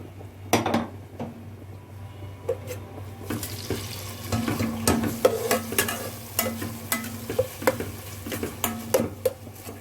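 Onions frying in oil and ghee in a pan, a soft continuous sizzle broken by repeated scraping and clinking stirs of a utensil, close up with no voices.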